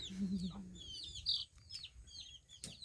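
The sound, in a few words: chickens clucking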